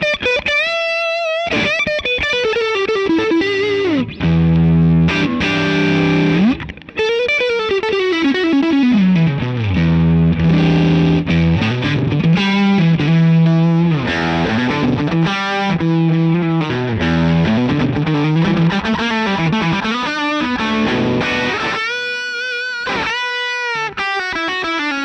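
Heavy, distorted electric guitar through a modded Jet City JCA20 tube amp, with sustained chords and sliding, bending single notes ringing out loud and continuous, with no talking.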